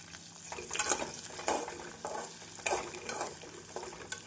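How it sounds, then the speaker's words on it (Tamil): Small onions with rock salt sauté in a pan for onion kulambu, crackling under repeated spoon stirs that scrape in an uneven rhythm, close and moderately loud. "நாம் உப்பு சேர்ப்பதால் வெங்காயம் மிக விரைவில் வதங்கி வந்துவிடும்."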